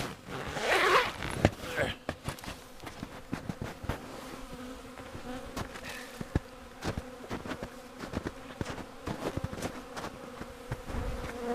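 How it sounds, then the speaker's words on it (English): Zipper tugged repeatedly in short ratcheting bursts, close and fairly quiet, amid a faint buzzing of bees near beehives in March. "Need a bigger zipper handle."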